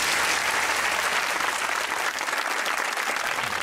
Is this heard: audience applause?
yes